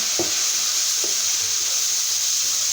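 Garlic frying in hot oil for garlic potatoes, a steady loud sizzle throughout with a couple of soft stirring knocks near the start.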